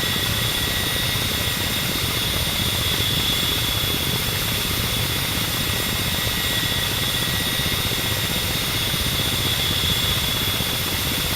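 Ka-50 attack helicopter in the DCS combat flight simulator, a steady dense turbine whine and rotor roar holding constant throughout with no speech.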